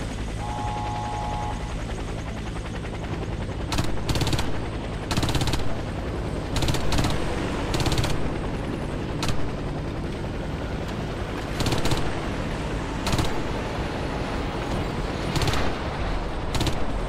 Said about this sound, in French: En tant qu'ingénieur, votre arme principale est le pistolet mitrailleur